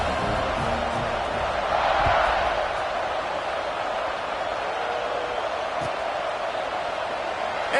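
A stadium crowd in a Madden football video game keeps up a steady roar of cheering and noise around a kickoff, with a few louder swells and thuds in a dense, continuous wash.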